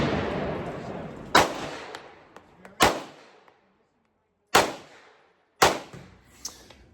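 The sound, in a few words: customized Glock 17 race gun shots, one-handed shooting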